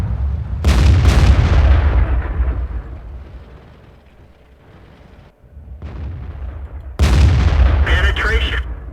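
Tank cannon fire in World of Tanks, including a ricochet: a heavy booming shot that slowly fades, then a second loud blast with a ringing metallic whine after it, with people talking.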